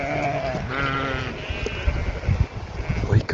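Sheep bleat in Ireland with wavering, harmonic calls in the first half, loud and close, followed by scuffling and thumps; some faint voice may be mixed in.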